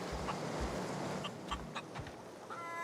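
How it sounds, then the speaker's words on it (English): Chickens in The Outer Worlds video game give a few short clucks over a soft ambient backdrop, with a brief higher squawk near the end. "They've got chickens."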